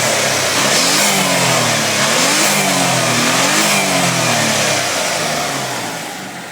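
A Mitsubishi 3000GT VR4 twin-turbo engine, smoking and blowing water, revs repeatedly in rising and falling sweeps, loud and close, then starts to settle toward the end.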